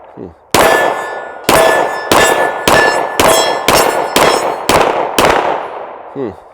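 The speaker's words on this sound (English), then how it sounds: "So let's shoot this gun, and you guys can get to see what you think." A Sig Sauer P320 RXP 9mm pistol with a red dot sight fires about nine loud, sharp shots in quick, slightly uneven succession, each with a bright ringing tail.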